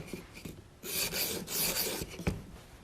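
An old knife is ground on an EdgePro sharpener at a low 15-degree relief angle, with close, dry rasping strokes of stone on steel rising and falling in a steady back-and-forth rhythm.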